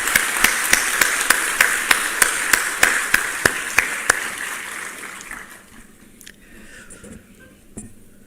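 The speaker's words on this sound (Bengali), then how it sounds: "এটা আমার মনে হয় করতালি দিয়ে we should acknowledge this." An audience applauding at a spiritual lecture, with a crisp, steady rhythmic clap beating through a wash of hands for about five seconds before dying away to near silence.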